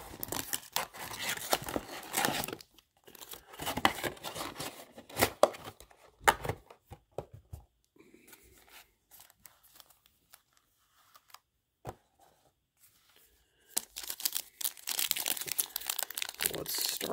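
A foil pack of 2021 Panini Draft Picks football trading cards is crinkled and torn open up close, with bursts of crackling foil broken by quiet pauses and scattered small rustles.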